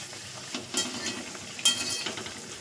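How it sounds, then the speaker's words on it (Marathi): Fasting snacks frying in hot oil until golden brown, a soft continuous sizzle at moderate distance with a couple of brief utensil clinks and stirring scrapes. "आणि हे आपल्याला चांगले गोल्डन ब्राऊन कलरवर तळून घ्यायचे आहेत"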